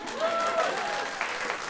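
Studio audience at a talk show with the creator of Andor breaks into steady applause, a dense, close wash of clapping with a voice heard over it.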